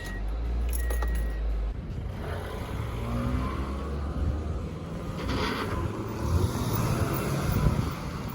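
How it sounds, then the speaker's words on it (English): Car keys are handed over inside or beside a car, a brief metallic jingle near the start, followed by steady engine rumble and wind noise. "Give me the keys to your car. Here, just take them."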